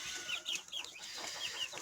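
Crested chickens clucking with a few higher squawks from hens and a young rooster, steady background farmyard chatter, no talking.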